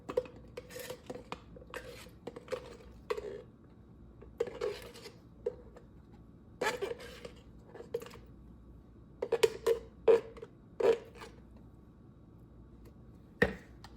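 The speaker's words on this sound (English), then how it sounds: "Just like the peanut butter, you want to spread it nice and smooth" A knife spreads jelly on bread for a grilled peanut butter and jelly sandwich, giving scattered light clicks and soft scrapes at close range with quiet gaps between them.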